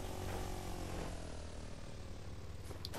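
A propeller airplane engine drones steadily in the Fortnite video game, a continuous moderate hum with no other distinct sounds.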